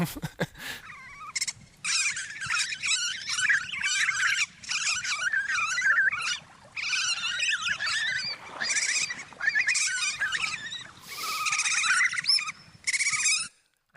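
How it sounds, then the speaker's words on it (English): Two otter brothers squabble over a crab, letting out dense bursts of high, squealing, chattering cries that come close and fairly loud in quick overlapping runs, with brief pauses between flurries and no human voices. "this is the sound of an otter fighting his brother over a crab"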